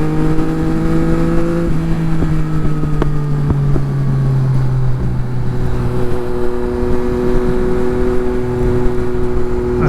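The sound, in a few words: Yamaha MT-09 motorcycle exhaust popping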